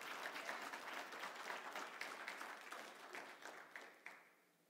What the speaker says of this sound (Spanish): Se vas a aplaudir, aplaude al Señor con ganas